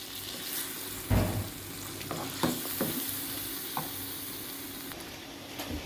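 Ginger-garlic and tomato paste fries in a pan with a soft continuous sizzle, broken by several sharp scraping and stirring knocks from a utensil against the metal.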